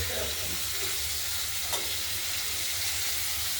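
Potatoes and tomatoes fry in a pan for a Bengali fish curry with live-cut katla fish, a steady close sizzle and hiss running evenly throughout, with a faint stir or clink near the middle and no talking.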